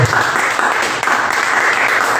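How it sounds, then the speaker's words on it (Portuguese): A church congregation applauds during a Portuguese-language evening worship service, a loud, dense, sustained clapping that fills the room. "Aplauda o Senhor"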